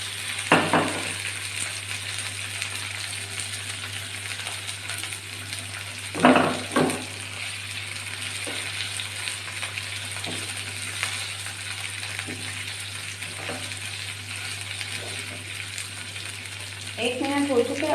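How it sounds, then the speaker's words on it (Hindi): Chicken fries in a pan for kabuli pulao, a steady close sizzle over a low hum. Occasional spatula scrapes and stirring clatters break through the sizzle. "और इसे अच्छे से 1 मिनट तक फ्राई करूँगी।"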